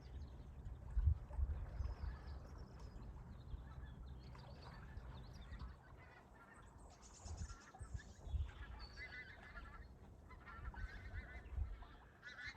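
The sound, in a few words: geese honking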